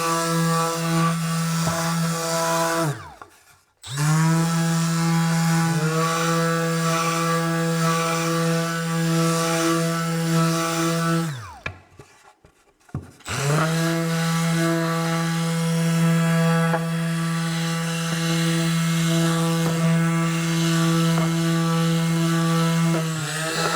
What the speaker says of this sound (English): Next, we're going to sand the outer edges.